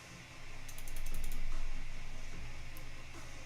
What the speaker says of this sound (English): so we do a 100 millimeter long purge line